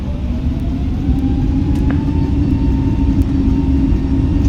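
Airliner engines spool at takeoff thrust in a Microsoft Flight Simulator flight from Memphis to Houston, producing a loud, continuous low roar with a rising tonal whine running steadily throughout.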